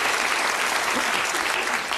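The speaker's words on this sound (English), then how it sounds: "Give them a nice, encouraging round of applause" A studio audience at a Bullseye game show claps for the contestants, a dense and continuous round of applause that stays loud and even from start to finish.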